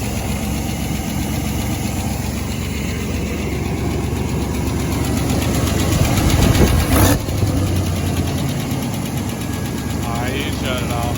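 The engine of a 1992 Chevy K1500 truck idles close by, its lifters needing readjustment. A steady rumble with a fast ticking rhythm runs throughout, with a brief louder clunk midway.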